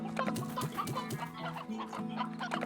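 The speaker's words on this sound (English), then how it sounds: "wait, I need to bring chickens with me" Chickens cluck in the Slime Rancher video game, a busy run of short, close clucks and murmuring calls repeating without a pause.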